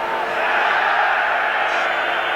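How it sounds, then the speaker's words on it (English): A large football crowd roars and shouts in a sustained, dense wall of voices at the 1985/86 European Cup Final between Steaua Bucharest and Barcelona, heard from a distance and unbroken throughout. "the crowd shouted for a penalty"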